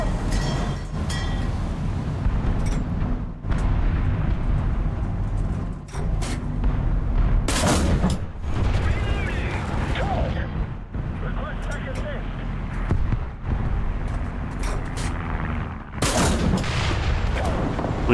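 Tank cannon fire in the War Thunder video game during an engagement with Churchill tanks, with several sharp loud blasts scattered over a constant rumbling engine and battle din.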